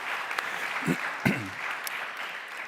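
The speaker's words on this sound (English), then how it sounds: "Applause on that." Applause from an audience at a history conference closing session, a soft, even wash of clapping heard from a distance, with a brief voice cutting in partway through.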